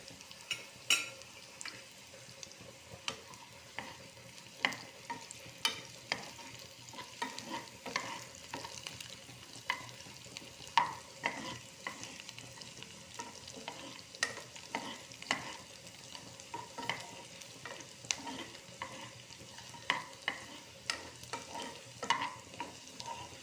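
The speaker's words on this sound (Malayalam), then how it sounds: "ഇഞ്ചി, പച്ചമുളക്, വെളുത്തുള്ളി, കറിവേപ്പിലയൊക്കെ ഇട്ട് കൊടുക്കാം. ഇതൊന്ന് വാട്ടിയെടുക്കാം." Ginger, green chili, garlic and curry leaves sautéing in coconut oil for a prawn pickle, a faint continuous sizzle broken by frequent soft stirring clicks and scrapes of a spoon in the pan, with no voices.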